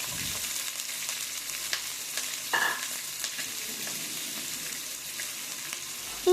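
Chopped onion sizzles steadily as it is stirred in a hot pan of chicken kabsa ingredients, with continuous close frying hiss and occasional scraping of the spoon.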